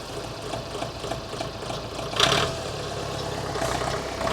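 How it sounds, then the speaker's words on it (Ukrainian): A small Mitsubishi MT25 tractor's four-cylinder engine idles with a smooth, steady knocking rhythm, close and continuous, with a brief louder clatter midway. "Послухайте роботу, бо чотирьохциліндрові двигуни в міциках працюють ну, дуже класно"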